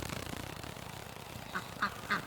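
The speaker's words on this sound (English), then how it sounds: "I hear a duck down here though." A few faint duck quacks, three short calls near the end, heard over steady outdoor background noise.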